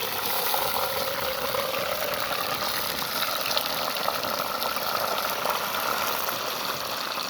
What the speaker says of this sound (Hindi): अब जो है ना वो जो कीमा हमने आधे घंटे के लिए छोड़ा था वो इसके अंदर डालेंगे।